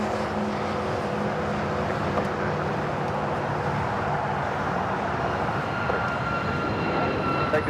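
Airliner jet engines roaring steadily on runway 25 right at Los Angeles International Airport, a continuous broad rumble with a slowly rising whine during takeoff, heard from a distance.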